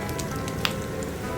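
Salmon fillet frying in a pan with chili added, giving a steady soft sizzle and crackle throughout, with one brief sharper pop partway through.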